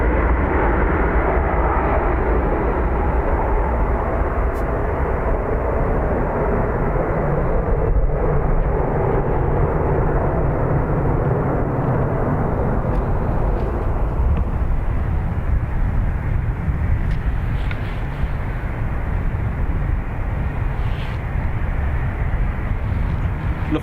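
A Lufthansa jet taking off for Munich produces a steady, loud, broadband engine roar that persists throughout, dense rumble gradually thinning toward the end as it climbs away.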